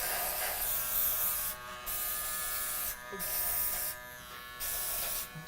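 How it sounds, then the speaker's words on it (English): Electric hair clipper switched on and buzzing steadily, with a constant motor drone and harmonic hum broken by brief dips where it is moved or handled. "just turn on the clipper"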